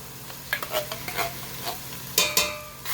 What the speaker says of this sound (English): So you're just going to let that saute in there and marry together with our onion, pimentos, and garlic.